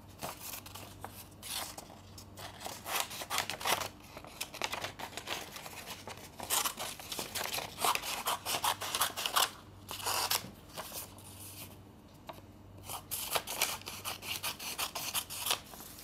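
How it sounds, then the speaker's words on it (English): Paper is cut with scissors to trim a rough square around an image for a Diwali craft, giving repeated crisp snipping and crinkling strokes in irregular bursts, close and fairly loud, with no voices. "cut a rough square around the"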